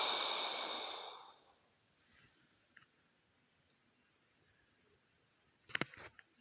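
One long, deep breath out through the mouth during a sophrology breathing exercise, close and breathy, fading over about a second and a half, followed by quiet with a few small mouth and breath noises.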